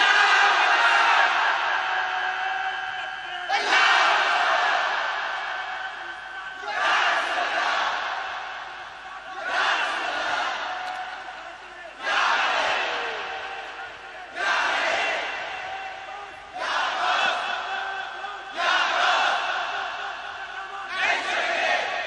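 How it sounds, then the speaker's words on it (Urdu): A crowd at a religious gathering shouts a slogan back in unison, loud bursts of massed voices answering a lone chant leader in a repeating call-and-response rhythm, with short gaps between each roar. "یہ میرا بھائی نعرہ لگائے گا"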